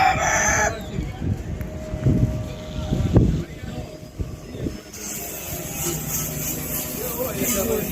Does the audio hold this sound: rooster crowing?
yes